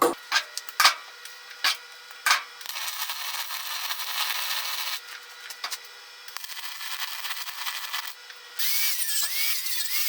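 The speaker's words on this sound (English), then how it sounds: "I would just flip it over, weld the other side up." Steel tubing frame for a grinder storage rack being welded, sharp crackling buzz in bursts that stop and restart, longer continuous runs later, close by with no talk.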